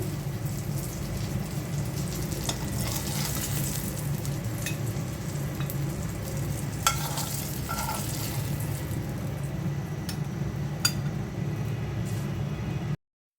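Eggplant slices fry in hot oil in a pan, a steady close sizzle with scattered pops and crackles throughout, no talking over it.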